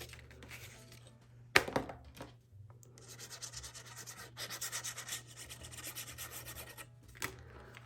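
A tool is rubbed firmly along a scored paper fold to burnish it for a handmade album, giving quiet scraping strokes with a sharp tap near the start, close and faint.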